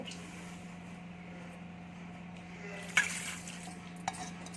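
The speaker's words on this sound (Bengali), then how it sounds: "আবার একবার জল দিয়ে 2-3 বার জল দিয়ে ভালো করে চালটাকে ধুয়ে নেব।" Raw rice being rinsed in water by hand in a home kitchen: faint soft swishing and stirring over a steady low hum, with a couple of brief clinks against the vessel.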